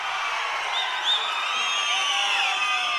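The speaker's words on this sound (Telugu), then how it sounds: "గట్టిగా చప్పట్లు కూడా చెప్పండి" A large crowd at an outdoor public meeting in Velugonda claps and cheers in a dense, steady wash of sound, with a few whistles and whoops rising above it throughout.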